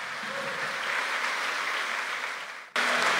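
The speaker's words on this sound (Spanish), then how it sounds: "Dale ese aplauso fuerte a Cristo, pues." Applause in a church service, a sustained wash of clapping from a congregation that fades briefly and then resumes at full strength.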